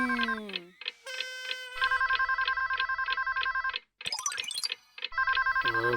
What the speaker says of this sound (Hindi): फोन बज रहा है।